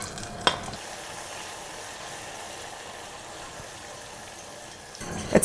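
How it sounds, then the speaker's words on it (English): Butter melts into hot caramel sauce with a steady, even bubbling hiss that is moderately loud and runs on its own, with a couple of brief clinks at the start and end. "In goes the butter. And everything's going to bubble, which is okay."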